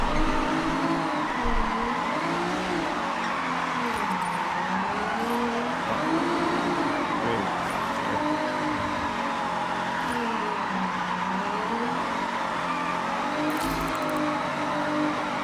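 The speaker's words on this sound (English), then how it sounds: "This car just drifts really well. I think the Camry chassis is just really nice." A Toyota Camry drifts in Forza Horizon. Its engine revs rise and fall in rolling waves while the tires squeal on and on through long slides, loud and close for the whole stretch.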